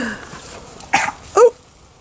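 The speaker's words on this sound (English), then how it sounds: "Wee bit of a cough there." A dog gives two short, harsh coughs close by, the second louder and more throaty, with quiet pauses around them.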